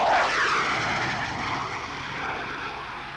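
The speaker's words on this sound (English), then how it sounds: "look closely at the lineup of these German F-104 Starfighters" German F-104 Starfighter jets pass overhead with a loud, broad roar that slowly fades as the aircraft move away, with no voices heard.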